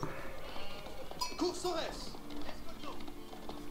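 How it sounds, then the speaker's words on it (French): Sheep bleat in Age of Empires IV, several short bleats rising among game sound effects and clip-clop hooves, heard under ongoing commentary. "Oh, il y a plein de moutons dans le coin, c'est cool ça."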